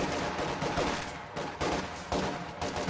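SVT rifles firing in the video game Company of Heroes 2: loud bursts of overlapping shots in a continuous volley, with short dips between the salvos.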